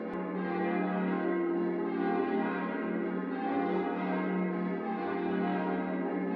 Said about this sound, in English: There's the bells. The bells.